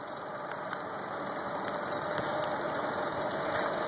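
A new Mercury 150 four-stroke outboard on a 2012 Harris 220 Cruiser tri-toon idles quietly and steadily, a constant low hum with light mechanical ticking and no voices.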